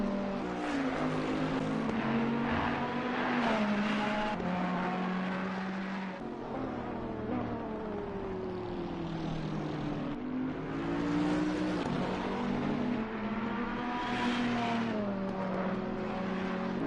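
Race cars circulate at Spa in the video game Assetto Corsa Competizione, several engines droning and shifting pitch as they accelerate and lift, a loud continuous layered roar with no voices.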